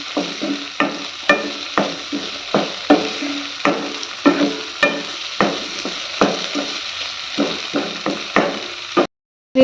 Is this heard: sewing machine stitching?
no